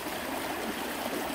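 Tranquille River in Kamloops flowing past a recreational gold panning area: a steady, close rush of running water with constant broadband wash, no voices.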